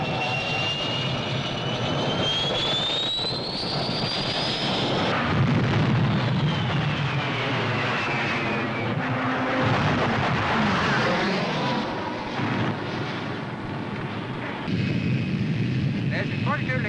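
Strike aircraft roar overhead during a rocket attack on parked aircraft, with a rising jet whine followed by a dense rumbling wash of engine noise and blasts, loud and sustained.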